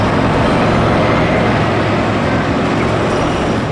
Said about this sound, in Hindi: ट्रक भी आ गया। हाँ ट्रक भी आ गया।